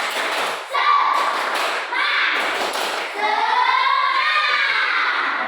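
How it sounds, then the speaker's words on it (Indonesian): A classroom group of children performs the tepuk semangat spirit clap, rhythmic bursts of hand claps mixed with loud chanted young voices, close and continuous throughout. "Yuk, tepuk semangat"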